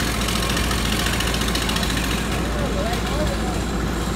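A new 410-horsepower Komatsu diesel engine installed in a Vietnamese fishing boat runs steadily at idle, a loud, constant mechanical drone with faint knocking vibration, and a voice briefly comes through under it.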